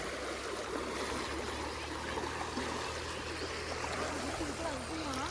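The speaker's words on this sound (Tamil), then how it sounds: "பாருங்க எந்த அளவுக்கு தண்ணி கொப்பளிச்சிட்டு வருதுன்னு" Steady rush of water gushing hard and continuously through a Kaveri river canal near Mettur, a broad unbroken roar throughout, with faint voices somewhere in the background.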